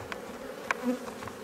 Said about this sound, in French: Pour l'instant les abeilles sont calmes